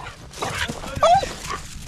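A dog on a fishing boat barks and whines, short close yips and whimpers with one sharp high squeal, over low boat and outdoor background noise.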